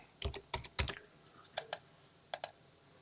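Fingers type text on a computer keyboard: a quiet, sparse series of keystroke clicks in two short bursts, with a pause between them and no talk.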